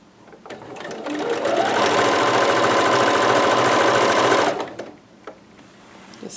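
A sewing machine stitches and backstitches a seam on a McCall's 6701 dress, running in one steady, fast, close whirring burst of about three seconds before stopping, with quiet handling sounds around it.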